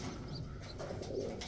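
Pigeons cooing at their nest with young squabs: soft, low coos at close range over a faint background, brief and muffled, with no talk.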